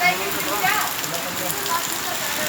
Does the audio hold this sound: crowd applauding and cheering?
no